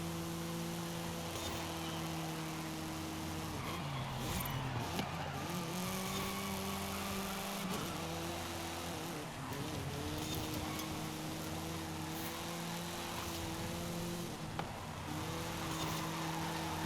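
Race cars run down a long straightaway in Forza Horizon 5, engines holding a steady loud drone and rising through the gears with repeated upshifts as pitch climbs and drops.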